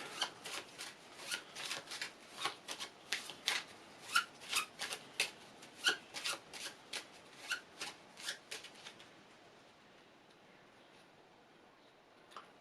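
Cards for a board wargame are riffled and shuffled in a quick run of about two dozen crisp bursts, close and clear, ending in near silence.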